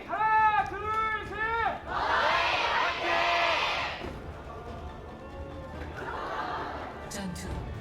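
A lone fan in an esports arena at an Overwatch World Cup match in Korea lets out a rhythmic, rising chant, followed by a broad swell of crowd cheering and applause that fades under commentators talking.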